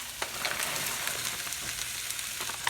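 Seasoned food sizzling in olive oil in a pan, a dense continuous crackle with scattered sharp pops, close and steady with no voices.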